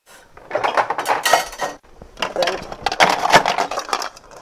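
Ice cubes are dropped and settled into an iced tea cocktail glass, giving two stretches of bright clinking and rattling knocks, close and fairly loud, with a short pause between them.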